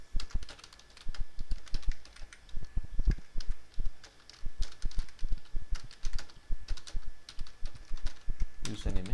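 Computer keyboard typing in steady bursts of soft clicks, fairly quiet and close, with pauses between runs of keystrokes.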